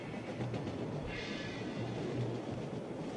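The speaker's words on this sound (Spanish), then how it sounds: "Disfruto ver los trenes pasar." A steady low rumble with faint rhythmic clatter, like a train rolling along rails at a distance.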